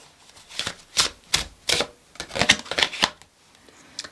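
A deck of tarot cards being shuffled by hand, close up: a series of crisp, papery riffle bursts in an uneven rhythm, with no talking.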